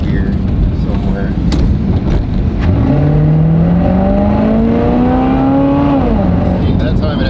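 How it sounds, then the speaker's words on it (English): A 1991 Pontiac Firebird with a 700R4 automatic transmission, fitted with a shift kit, accelerates while holding first gear. Its engine climbs in one long, loud rising rev that lasts several seconds and then drops off, heard from close by with no talking. "that time it actually stayed in first gear instead of shifting early to second gear"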